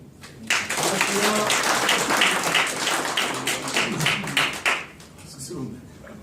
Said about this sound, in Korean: 그리고 문진 우리 회장님을 비롯한 네 분께 박수 부탁드립니다.